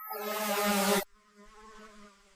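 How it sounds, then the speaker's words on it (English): A small flying drone's harmonic buzz hovers close and loud over a desert, then abruptly cuts to a fainter, steadier whine as it moves off or throttles down; no voices. "I hear this weird buzzing noise up there"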